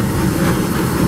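Disneyland Railroad train rolling along the rails near New Orleans Square Station, a loud, close rumble with rhythmic wheel clatter and a faint hiss, brief and steady.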